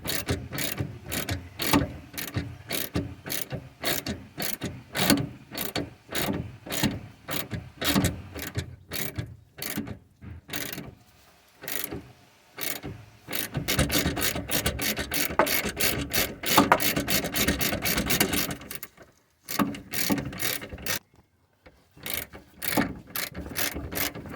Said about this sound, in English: we want to take off the bottom bolt for the shock absorber